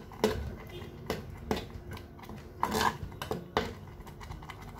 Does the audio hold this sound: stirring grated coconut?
yes